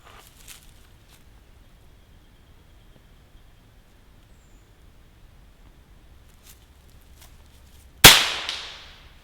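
A single sharp crack from an FX Impact M3 air rifle shot rings out after a long quiet stretch, close and loud, with a brief decaying tail.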